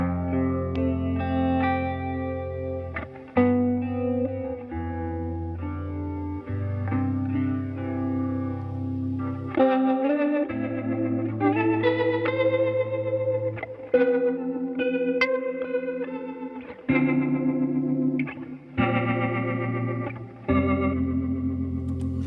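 Electric guitar played through a chorus pedal set to a slow modulation speed with a little preamp drive, strummed chords and single-note phrases shimmering with a gentle wobble, up close and loud, with no talking over it.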